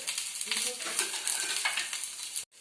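Mussels frying in hot oil in a traditional home-style kallummakkaya fry, a steady close sizzle with stirring and flipping noises, ending abruptly.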